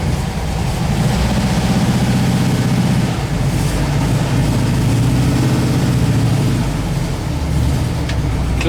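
A Volkswagen bus engine chugs loud and close, its heavy low rumble lumpy and uneven as the bus is shifted into reverse and starts to move, then the engine note changes partway through.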